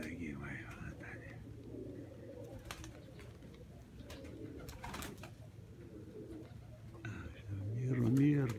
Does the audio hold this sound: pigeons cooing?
yes